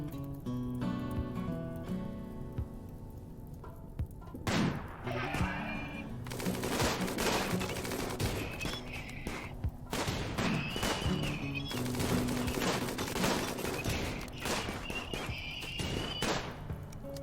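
Gunfire from the colony video game RimWorld: scattered bursts of sharp shots cracking at irregular intervals over a steady tonal music bed, moderately quiet overall.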